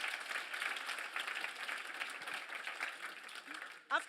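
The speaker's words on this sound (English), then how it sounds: "I want to please give Xiaoxing a big applause." Conference audience applause fills the room, a dense, steady patter of many hands clapping at moderate distance, ending with a brief sharp sound.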